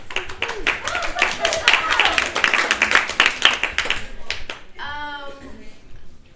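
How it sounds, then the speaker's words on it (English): Applause and clapping from a gathered group at a community meeting, dense and steady for about four seconds before thinning out, followed by a voice speaking near the end. "round of applause for all of you guys for showing up and contributing, participating"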